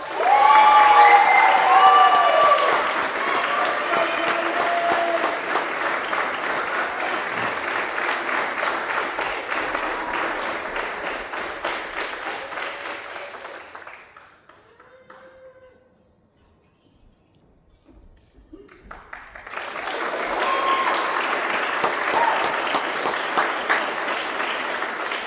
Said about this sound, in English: Ladies and gentlemen, please give all our awardees a big round of applause.